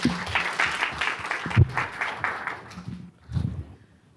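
Audience applause breaks out after a paper presentation at a data science conference, a few seconds of steady clapping that fades toward the end.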